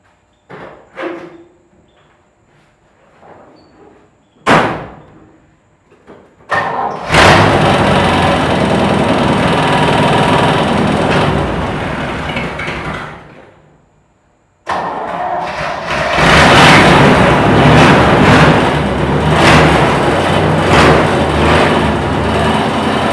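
A Chevy C10 truck engine cranks after a few clicks and clunks, catches and runs loudly up close, cuts out briefly, then restarts and roars on steadily.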